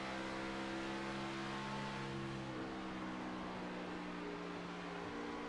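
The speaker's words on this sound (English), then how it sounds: "You heard him have to jump out of the throttle." A NASCAR Xfinity race car in a sim racing game at Darlington heard on board, its engine droning steadily at high revs before the pitch dips as the driver lifts off the throttle.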